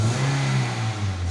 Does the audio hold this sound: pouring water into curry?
no